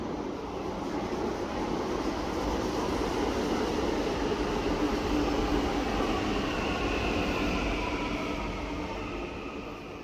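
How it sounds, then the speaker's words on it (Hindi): A Delhi metro train runs along the track with a steady, loud rumble and hum that swells slightly and then eases, heard alone without talk. "यह आखिरी मेट्रो है।"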